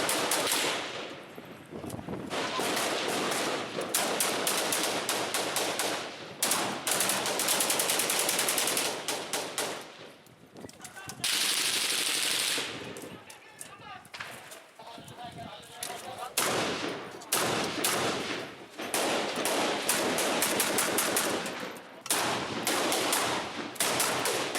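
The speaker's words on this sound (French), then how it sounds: "Nous finissons par rapidement nous retrouver coincés au milieu des rafales d'armes automatiques." Automatic weapons fire among jihadist fighters in a combat zone crackles in long, loud, close bursts, repeated volleys that keep coming with brief gaps between them.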